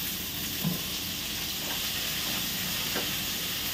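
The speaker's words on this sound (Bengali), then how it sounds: "পেঁয়াজগুলো একটু লাল করে ভেজে নিতে হবে, এখানে হালকা একটু লাল করে।" Chopped onions sizzle in a pan with a continuous frying hiss, close and steady, with a few faint stirring knocks and no voices.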